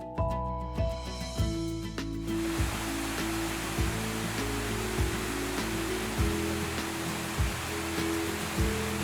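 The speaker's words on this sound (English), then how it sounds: "Creek Falls, one of the largest waterfalls in Ohio, located smack in the middle of the Slavic Village neighborhood." Steady rushing water from Mill Creek Falls, a large waterfall in a wooded gorge in the Slavic Village neighborhood of Cleveland, Ohio. It forms a constant broadband hiss under rhythmic background music.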